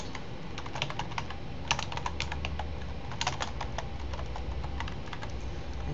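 Steady typing on a computer keyboard, close and even, with quick key taps and a few louder strikes over a low constant hum. No voices are heard.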